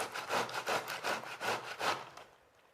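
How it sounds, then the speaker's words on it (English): A pink tomato being rubbed against a kitchen grater, about seven rhythmic rasping strokes in a steady back-and-forth pattern, close and fairly loud, fading out at the end. "It just simply grates down, and it's going to look like a tomato"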